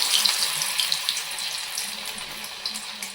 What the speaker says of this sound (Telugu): దీన్ని ఇంకా చూడండి కాగిన వేడి ఆయిల్లో వేసేస్తుంది